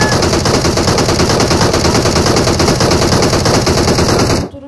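Sustained loud automatic gunfire in PUBG Mobile, a dense rapid burst of shots running continuously for over four seconds before cutting off abruptly.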